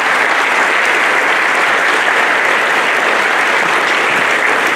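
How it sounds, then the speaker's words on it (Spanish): An audience applauds cattle ranchers at a 2019 livestock fair in Amatepec, with loud, dense, sustained clapping that holds steady and close from start to end. "Vamos a darles un fuerte aplauso a los señores ganaderos."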